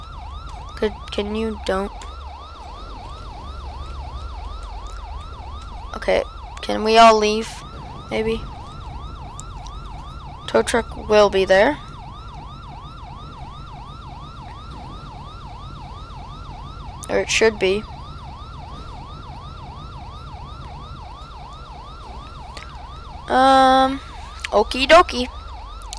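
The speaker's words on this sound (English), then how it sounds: "that siren's getting really annoying" An emergency siren wails continuously in a steady repeating cycle, close and persistent, while people talk intermittently over it.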